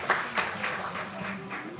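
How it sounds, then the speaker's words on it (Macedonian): Applause from an audience at a karate award ceremony, a dense patter of clapping with some murmuring voices underneath, fairly faint and diffuse throughout. "Аплауз, така е."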